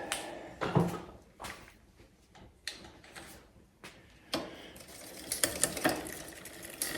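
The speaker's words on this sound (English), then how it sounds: "each click is one gear" A Shimano gear shifter on a 2004 Klein Aura X road bike clicks through gears while the derailleur is adjusted, a series of sharp, close mechanical clicks and snaps spaced irregularly in a quiet room.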